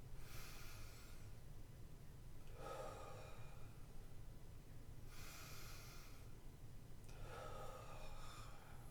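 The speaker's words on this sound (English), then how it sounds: "you can feel your belly go out on the inhale and then in on the exhale" Deep belly breathing: three long, slow breath sounds, close and airy, spaced a few seconds apart with quiet between them, and no talking.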